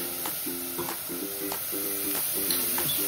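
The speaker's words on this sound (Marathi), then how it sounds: "हे आपण आता फोडणी देतो आहे सुक्का चिकनसाठी" Boiled village chicken hits hot tempering oil for a dry chicken dish, giving a close, steady sizzle and frying crackle with light stirring scrapes throughout.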